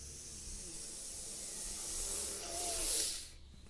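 A long, deep breath drawn in during a guided yoga breathing exercise, a steady airy hiss that swells toward the end and then cuts off, heard alone and close.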